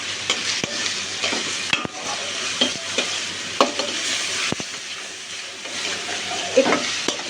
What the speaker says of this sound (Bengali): এটাকে কিন্তু একটু লাল লাল করে ভাজতে হবে পেঁয়াজটাকে।